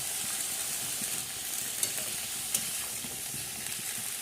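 Colourful winter vegetables frying in a pan are stirred slowly, giving a steady, close sizzle with a couple of faint utensil clicks.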